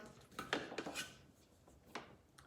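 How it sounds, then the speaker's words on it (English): A spatula scraping the bottom of a Thermomix bowl of gluten-free bread dough, several quiet, short rasping strokes close by in an uneven rhythm. "I'm just going to scrape off the bottom"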